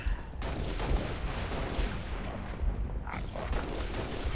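Rapid, dense gunfire from a shotgun and other weapons in Halo: Reach, a steady barrage of overlapping blasts at moderate loudness with no talking.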